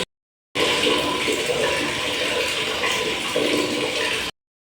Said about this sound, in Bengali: জল ভরতে দিয়েছি, জলটা দিয়ে ঢেলে রাখবো